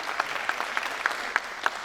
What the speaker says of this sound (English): I request all of you to please give a round of applause to our president and Mamata